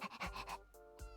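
Rapid rhythmic panting from a puppy in the video game The Hundred Line: Last Defense Academy, several quick breathy pulses followed by a softer trailing breath, quiet and close.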